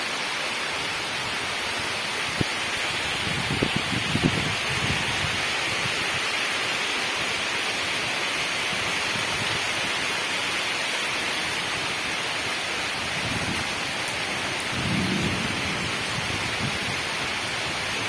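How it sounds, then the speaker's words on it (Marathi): Heavy rain pours during a Konkan downpour at Sawantwadi, a dense and steady hiss filling the whole stretch, with a few faint low rumbles beneath it and no talk. "हो जोरातच आला आहे पाऊस"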